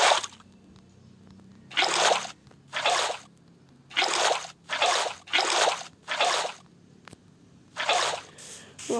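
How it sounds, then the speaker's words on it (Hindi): A Minecraft water bucket splashes again and again, roughly eight short sloshing bursts at an uneven rhythm, with quiet gaps in between and no speech. "ओके सो फटाफट से इसके अंदर हम लोग वापस से पानी भर के लाते हैं"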